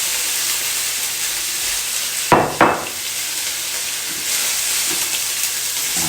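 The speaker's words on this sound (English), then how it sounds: "we're only going to saute these for about 5 minutes. Sweet peppers. And an onion." Sweet peppers and onion sautéing in a hot pan give a steady, bright sizzle throughout, broken by two sharp hissing bursts as the vegetables are stirred or shifted, with no voices.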